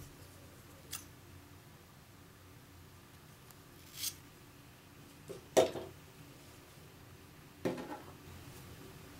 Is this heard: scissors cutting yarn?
yes